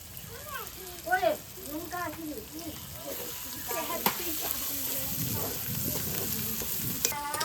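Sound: spice masala with cashew paste sautéing in a pan

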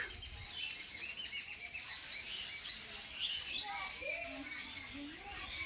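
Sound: birds calling near an old banyan tree

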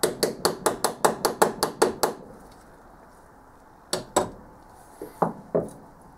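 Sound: hitting weld with hammer

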